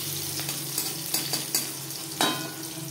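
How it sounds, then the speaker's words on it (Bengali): Whole cumin seeds and slit green chillies fry in hot oil in a pan, giving a steady soft sizzle with a few gentle stirring scrapes and clinks, fairly quiet and close. "ফোড়নে দিয়ে দেব গোটা জিরে, আর লাগছে চেরা কাঁচা লঙ্কা।"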